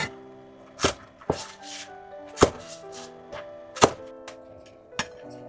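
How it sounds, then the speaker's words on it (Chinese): Green scallion tops are cut into sections with a knife, about six crisp, separate chops striking a board at an uneven pace, close and clear with quiet between them. "葱绿切段。"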